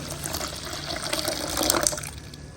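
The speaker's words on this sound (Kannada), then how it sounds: "ಇವಾಗ ಇದಕ್ಕೆ ನೀರು ಹಾಕಿ ನೆನೆಸಿಟ್ಕೊಳ್ಳೋಣ" Water runs and splashes steadily into a container for a couple of seconds, a close, bubbly pouring sound with no voices.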